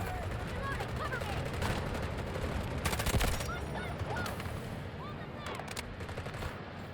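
Gunfire in the Delta Force video game, where a K416 rifle build is in use, with bursts of shots over a busy game background that also carries honking, goose-like sounds, and a louder cluster of reports midway.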